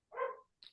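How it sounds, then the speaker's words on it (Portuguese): A single short dog bark close by, followed after a brief gap by a fainter, higher yelp, both alone with no talk. "os meus cachorros latindo"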